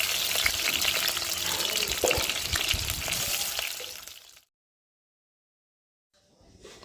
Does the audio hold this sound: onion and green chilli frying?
yes